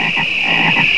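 A cartoon frog from a Budweiser beer advert croaks loudly and close up, a few rapid throaty croaks over a steady high-pitched backing tone.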